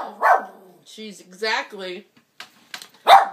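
A Yorkshire terrier gives a few short, sharp barks between stretches of someone talking nearby, the yaps landing in brief bursts near the start and end.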